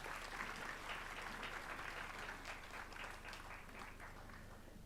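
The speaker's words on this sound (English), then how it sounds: "Can we have a huge round of applause?" Audience applause at a law college annual day function after a guest is presented a memento: soft, sustained clapping from a crowd, fading slightly toward the end.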